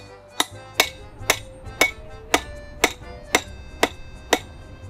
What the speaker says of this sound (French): on prenait le marteau.